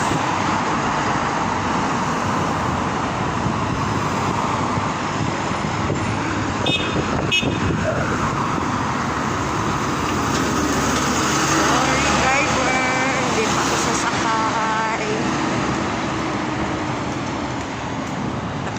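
Roadside traffic in the Philippines during a morning walk, a continuous wash of passing cars and engines close by with a short horn toot midway and people talking over the noise.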